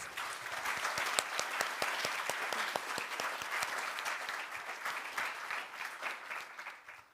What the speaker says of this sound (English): So can we have a quick round of applause for her, please?